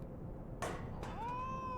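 A cat in the video game Final Fantasy XIV: Heavensward meows in a short call followed by a longer rising meow, clear and close over a low game backdrop with no talking.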